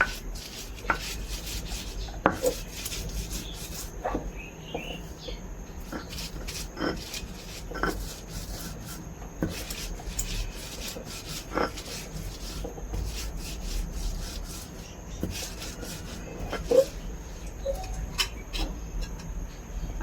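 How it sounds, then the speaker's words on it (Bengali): Green chilli and garlic are ground by hand on a traditional shil-pata grinding stone, giving repeated rhythmic rubbing scrapes of stone on stone, close and moderately loud, with no talking. "এখন মরিচ গোলা এবং রসুন গোলা বেটে নিচ্ছে শিলপাটাতে"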